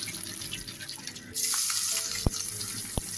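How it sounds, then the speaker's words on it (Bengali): Boiled eggs coated in salt, chili and turmeric fry in hot oil, a steady bright hiss and sizzle that swells louder partway through, with a couple of sharp clinks close by. "এখানে ডিম সিদ্ধ করার পর আমি লবণ আর মরিচ দিয়ে হলুদ গুঁড়ো মাখিয়ে নেওয়ার পর এখানে তেলে ভেজে নিচ্ছি"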